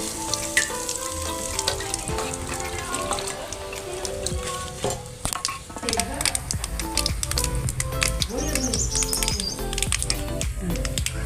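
Dry red chillies, asafoetida and curry leaves crackle and sizzle in hot oil for tempering urad dal, with sharp popping bursts over a continuous frying hiss close by.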